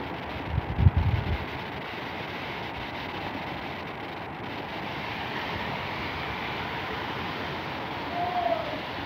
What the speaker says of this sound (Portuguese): tá ventando demais. Muito vento, muita chuva.